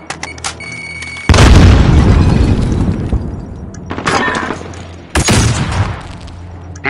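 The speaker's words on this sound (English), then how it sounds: "He flashbanged me, I can't see." A flashbang grenade goes off in Modern Warfare with a sudden loud boom and a crackling burst, followed later by a second sharp blast amid scattered game noise.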